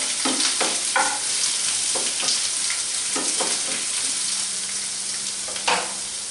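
Onions frying in a pan with steady sizzling, stirred now and then with soft scraping strokes, close and fairly loud throughout with no talking.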